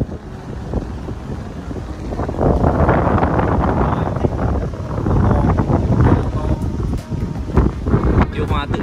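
Strong outdoor wind buffets the microphone in a continuous loud rumble that swells and gusts, with no other clear sound standing out.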